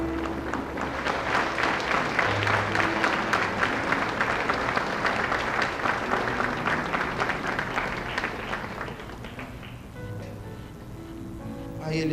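A church congregation applauds in a long, dense burst of clapping that swells and holds, then thins toward the end as a few instrument notes come through.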